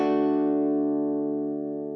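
A single guitar chord, a beginner's first chord, is strummed once and rings out sustained and close, its bright overtones slowly fading over two seconds with no talking.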